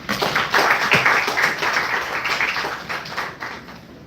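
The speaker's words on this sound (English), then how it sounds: "Shamsha Ma'am with a big round of applause." Audience applauding to welcome a speaker at a lecture on leech therapy for eye disorders, a fairly loud wash of clapping that gradually fades.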